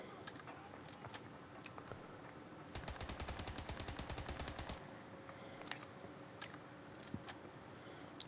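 Rifle fire in a video game crackles from a distance in a short rapid burst of repeated shots, with a few scattered single reports around it over a constant background hum.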